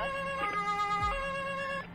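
Electronic ambulance siren from the Emergency 4 video game, a steady wailing tone held throughout, fairly quiet and clean with a brief low thump partway through and no talk.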